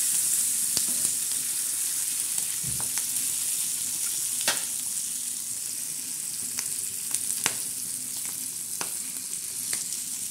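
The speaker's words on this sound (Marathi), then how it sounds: "तर बघा आता आपल्या मिरच्या तळत आहे" Green chillies frying in hot oil with salt, pressed down in the pan, give a steady bright sizzle throughout, broken by occasional sharp pops and crackles, close and alone with no voices.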